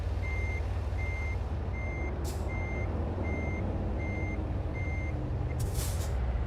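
A truck in American Truck Simulator backs up with steady evenly spaced reversing beeps over a constant low engine rumble, with two sharp air brake hisses, the second longer and louder near the end.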